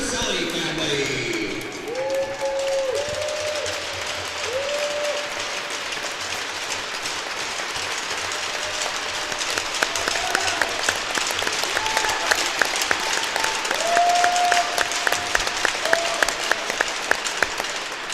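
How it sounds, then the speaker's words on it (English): Crowd applause fills a large echoing ice arena at a varsity hockey game after a ceremonial puck drop, steady clapping with a few tones from a PA or whistle near the start, a voice briefly audible early on. "There's a round of applause for the Rudicelli family."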